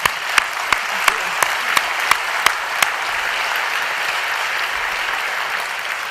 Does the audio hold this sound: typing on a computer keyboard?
no